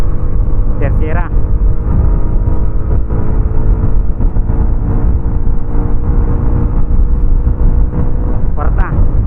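A motorcycle engine accelerates in third gear on an empty road during a top-speed run testing a sprocket combination. Its loud, steady drone runs the whole time while someone talks over it.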